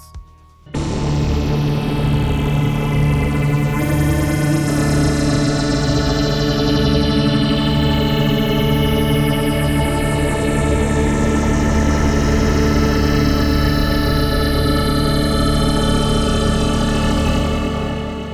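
A dense, droning experimental synth tone with rumbling low layers and slowly sweeping, warbling upper textures, loud and continuous after a sudden start.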